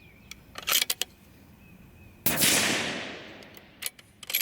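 A single loud, close rifle shot from a custom 22 Creedmoor coyote rifle firing 75gr Berger bullets cracks out and decays into a long outdoor echo, bracketed by smaller clicks and mechanical handling sounds.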